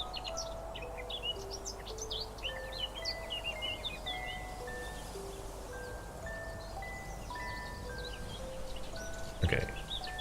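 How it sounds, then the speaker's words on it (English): Minecraft game ambience carries scattered chirping bird calls over a soft steady background, with gentle repeated tones, faint and calm throughout. "And especially the birds are really nice."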